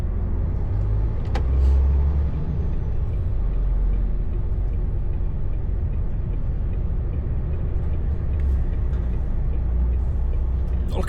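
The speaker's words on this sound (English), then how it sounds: "Just the sheer volume of traffic coming through is making it a little bit more difficult." Heavy motorway traffic rumbles steadily and loudly throughout, a dense low roar of cars, buses and lorries with brief air-brake hiss, heard continuously without talk.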